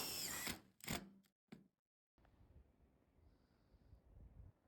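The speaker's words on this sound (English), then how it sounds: "Then screw it in place." A power drill driving screws to fix metal eave flashing on the roof of a backyard sauna: two or three short, loud whirring bursts close by, then quiet outdoor ambience.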